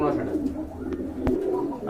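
A pair of large khaki pigeons coo low and steadily up close, a soft throaty murmur with a sharp knock partway through, and a voice speaking faintly in the background.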